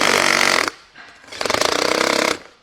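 An electric drill drives screws while an office chair is assembled, two loud, rattling bursts of whirring separated by a brief pause, close and with no talking.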